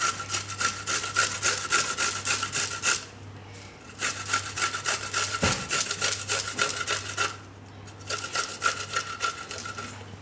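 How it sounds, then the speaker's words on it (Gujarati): Fresh ginger grated by hand for besan aloo pudla, after potatoes were grated, gives steady, loud rasping strokes in three long bursts with brief pauses between, near and alone with no talk. "હવે આમાં આપણે આ આદું, તો આદું એમાં ભેગું છીણી નાખીશું."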